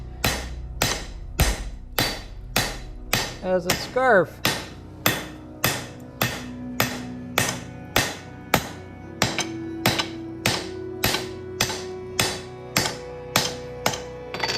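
A hand hammer strikes katana steel to smooth out ridges left by a trip hammer. About two dozen sharp, ringing blows fall in a steady, even rhythm, close and clear, with no talking.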